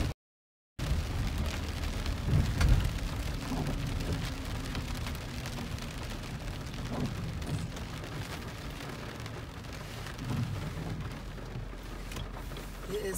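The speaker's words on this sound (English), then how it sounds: "It's the rain." Steady rain falls outdoors on a cold 47-degree day near a house, a continuous hiss of drops on surfaces with a brief silent gap at the start and some faint low rumbling underneath.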